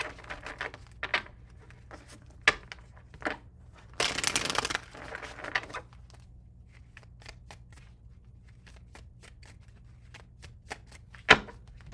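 Tarot cards handled and shuffled close by, mostly soft scattered taps and slides with one dense riffle burst in the middle and a sharp snap near the end, fairly quiet and without talk.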